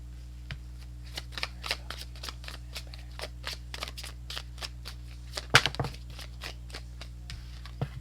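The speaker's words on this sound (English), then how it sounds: "I'm going to pull 2 cards for that." Tarot cards being shuffled and pulled by hand, a rapid run of crisp riffling snaps and slaps close up, with one sharper clack partway through, over a steady low hum.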